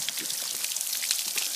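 The cooling water stream of a Johnson 70hp outboard motor, a steady hissing splash of water pouring and spattering close by, continuous and bright without talk.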